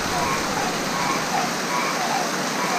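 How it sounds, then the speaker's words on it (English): Heavy rain pours down at night, a dense, loud, unbroken hiss of water drumming on surfaces that holds steady from start to finish. "You hear how loud that rain is?"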